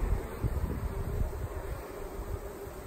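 Honey bees buzzing in a steady, dense drone around a swarm trap where the colony has stayed too long, close and continuous with a low rumbling hum beneath, no talking.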